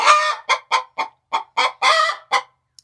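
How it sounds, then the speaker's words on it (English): Hens clucking in a backyard chicken run with nine birds, heard as a quick series of short, loud, close clucks in uneven bursts, with one longer squawking call partway through. "So we have now got 9 hens in here"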